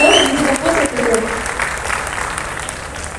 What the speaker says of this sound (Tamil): ஒரு பெரிய கைத்தட்டலோட it's time to welcome Deva sir.